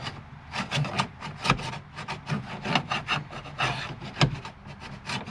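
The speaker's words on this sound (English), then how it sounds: "I'm actually going to use one of these trim tools just to see if I can get down behind" A plastic trim tool scraping and working down behind a panel on a Jaguar XK8, close-up irregular rubbing and rasping strokes with occasional sharper clicks and knocks.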